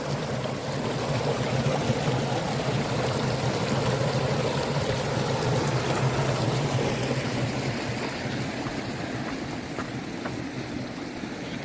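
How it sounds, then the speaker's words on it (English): Cow Creek flows steadily as someone wades across it on a trail crossing, a broad continuous rush and trickle of close water with no talking. "Hang on, I gotta do a river crossing here."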